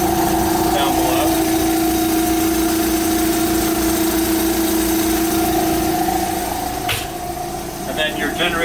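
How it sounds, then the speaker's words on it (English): A service truck's generator and air compressor run together in a steady, loud mechanical drone with a constant hum that holds throughout, with a brief clank near the end. "We'll let the generator build up, we'll let the air compressor build up before we shut it down."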